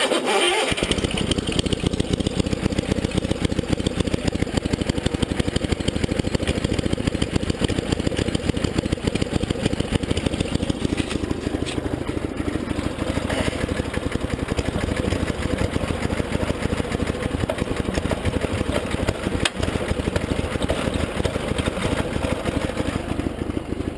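A 1975 Sears Suburban ST16 lawn tractor engine catches at once and then runs loud and steady at a rough idle, close by and continuous.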